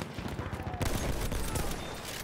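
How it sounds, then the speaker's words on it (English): Machine gun fire in the video game Battlefield 1, a dense rapid burst of shots and battle noise, fairly quiet in the mix with no talk. "There's a machine gun."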